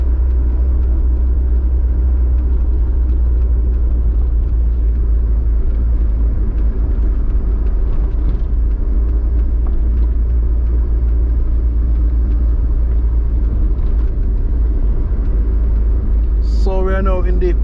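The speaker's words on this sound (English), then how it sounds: "So we're having some bumpy ride right now." A car rolls over a bumpy road near Treasure Beach in St. Elizabeth, Jamaica, giving a loud, steady, low engine and road rumble heard from inside. A brief voice-like sound rises near the end.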